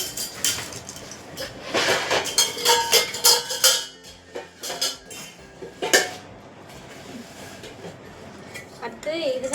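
Someone handles a heavy aluminium cooking pot, making a run of clanks, knocks and metallic rattles in bursts, with a voice talking over and between them.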